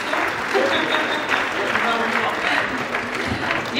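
Audience applause at an awards ceremony of an international brass and jazz music festival, steady sustained clapping from a crowd lasting several seconds at even loudness, with faint voices underneath.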